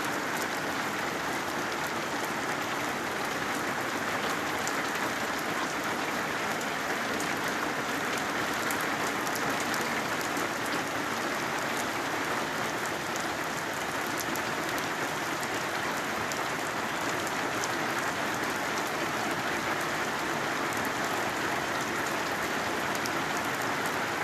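Steady, dense rain pours down without a break, a constant broadband hiss of drops hitting surfaces close by.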